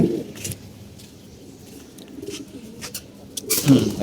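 Young pigeons in a loft give low cooing calls nearby, mixed with scuffling and a voice speaking over them.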